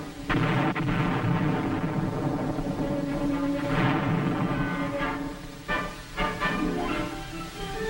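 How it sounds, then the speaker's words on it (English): Heavy artillery fire during saturation shelling of strategic hilltops in a military operation, heard as a continuous loud rumbling barrage with repeated booming bursts throughout. "This meant several days of saturation airstrikes. And artillery fire."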